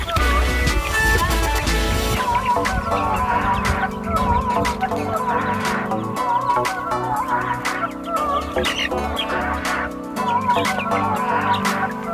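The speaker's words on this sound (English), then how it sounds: "let me feed these chickens real quick" Chickens cluck and squawk repeatedly in short, irregular bursts, close by and fairly loud, with a steady background hum and no talking.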